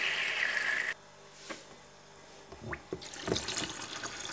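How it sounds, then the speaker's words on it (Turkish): Water under pressure gushing from an opened valve by a filter, first a strong hiss that cuts off abruptly, then quieter splashes and gurgles, close by with no talking. "Suyum buradan akıyor arkadaşlar."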